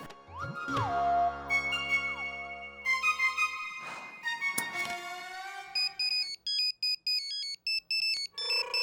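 A phone ringtone plays after a call is placed, a loud repeating electronic melody of bright tones that continues for several seconds and then changes to short beeping pulses near the end.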